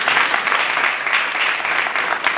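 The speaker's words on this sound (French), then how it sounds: "que je demande d'applaudir très vivement" A roomful of people claps vigorously at a graduation ceremony for Djiboutian students in Addis Ababa, a dense, loud, sustained wash of applause with no voices over it.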